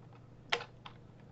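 A few quiet keystrokes on a computer keyboard while Python code is entered: one sharper cluster of taps and a softer tap a moment later over a low steady hum, with no talking.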